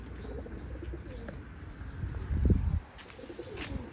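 Teddy pigeons in a breeding loft in Oman give a soft, deep coo or two amid faint background rustle and a few light chirps, with no talk over them.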